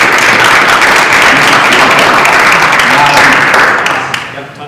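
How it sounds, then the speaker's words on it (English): Loud applause fills a school committee meeting room, dense sustained clapping with faint voices underneath that fades out toward the end. "So just a round of applause for him."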